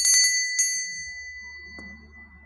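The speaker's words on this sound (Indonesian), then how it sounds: "dengan ditandai lonceng berbunyi" A small bell gives a few quick bright rings, then a single fainter ring that lingers and fades into quiet.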